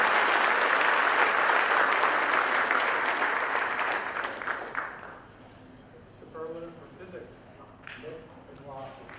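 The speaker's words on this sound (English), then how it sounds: "applause." Loud audience applause at a 2017 high school academic awards ceremony, dense clapping that fades out after about five seconds, followed by quieter room sound and brief talking.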